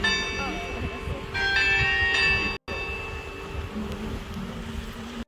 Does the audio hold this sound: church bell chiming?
yes